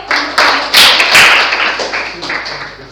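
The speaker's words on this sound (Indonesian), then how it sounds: "Oke, tepuk tangan dulu" A small group of students claps in a classroom at SMA Muhammadiyah 25 Setiabudi Pamulang, loud close irregular hand claps in bursts that thin out over a few seconds.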